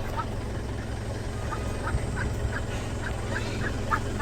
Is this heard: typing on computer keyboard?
no